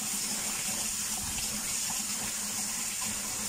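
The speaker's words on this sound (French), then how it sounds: "couscous que vous voyez là et on le rince à l'eau froide" Cold tap water runs steadily over couscous being rinsed, a continuous close rushing splash of faucet flow with no voices.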